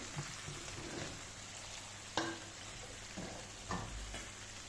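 Potatoes go into a pan for a hilsa fish curry with potatoes and beans, bringing a steady close sizzle of frying with a few sharp clunks and stirring sounds.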